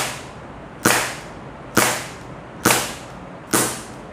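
A Cybergun PT92 full-metal airsoft pistol fires four sharp, crisp shots at roughly one-second intervals, each a loud snap with a quick decay, with no talking.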